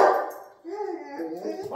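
A dog barks and yips at a passerby outside, loud and close, in a short burst of a couple of seconds while a person talks over it.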